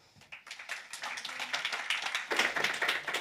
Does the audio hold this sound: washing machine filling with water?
no